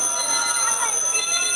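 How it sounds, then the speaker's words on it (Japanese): An alarm clock rings steadily with a bright, continuous electronic trill, moderately loud and alone for a brief moment. "祭りんちの一日は目覚まし時計を止めるところが始まる。"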